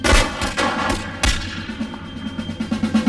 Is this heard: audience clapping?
no